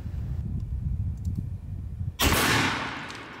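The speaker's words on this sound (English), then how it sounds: "Ooh, I shot a little too fast." A Serpent Arms 550L PCP air shotgun firing lead shot, a single sharp loud blast of compressed air that decays over the following second after a low rumbling background.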